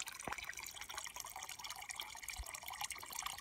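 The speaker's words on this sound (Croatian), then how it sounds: "Izvor sumporne vode, ali nije mnogo jaka" Sulphur water spring trickling at a source in Vranić, a soft continuous dribble with small drips, faint and close, no voices.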